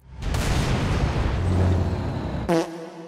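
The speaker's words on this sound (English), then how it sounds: "firing a larger 150mm round compared to the previous M808 series that typically fired 90mm, the explosion is noticeably less big" A Scorpion tank in the Halo video game fires its 150mm cannon. A sustained deep booming rumble rolls on for a couple of seconds, and a sharp mechanical clank follows near the end.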